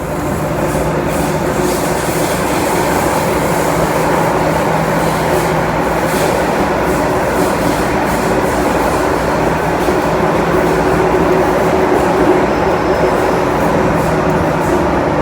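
A 40-year-old Hong Kong MTR subway train runs loudly and steadily from inside the car, with a constant rumbling roar, whining tones and faint rhythmic rattling.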